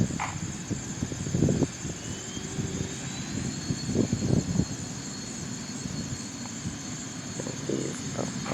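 A Mitsubishi aircraft takes off from Green Bay airport on a busy day, giving a faint, distant, steady roar with a broad hiss. A few soft thumps and rustles sit close by.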